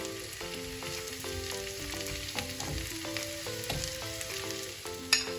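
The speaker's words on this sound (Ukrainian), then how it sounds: "і буду жарити до прозорого кольору." Onions sizzle steadily in a hot pan, a constant crackling fry with faint music in the background.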